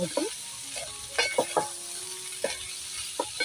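A spatula stirs boiled-potato bhaji, salted for a fasting meal, around a hot pan, giving a few scraping, clattering strokes over a soft, steady sizzle with no voices.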